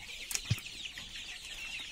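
Chickens cluck softly in short bursts while eating feed, against a steady background hiss, with a couple of brief pecking or flapping sounds near the start.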